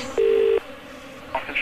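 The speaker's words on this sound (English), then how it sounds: "I'm going to phone security." A telephone keypad is dialed: one long steady tone followed by shorter quick tones, loud and close, with no talking.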